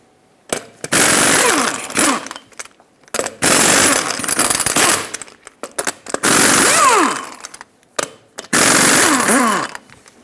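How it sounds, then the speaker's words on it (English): Impact wrench with a 22mm socket spinning lug nuts off the rear wheel of a Ford E-350 van: four loud, close bursts of rattling hammering with rising whine, separated by short pauses. "Now use a 22mm socket to remove all 8 lug nuts and then pull the wheel off."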